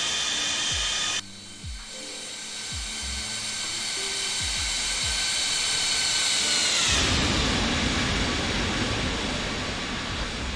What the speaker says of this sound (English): Even those engines on idle for some of this